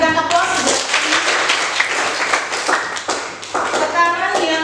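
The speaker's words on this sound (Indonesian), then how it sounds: "Kita berikan aplaus." Students in a ninth-grade classroom clap for a classmate, a loud, steady burst of applause from many hands with children's voices mixed in.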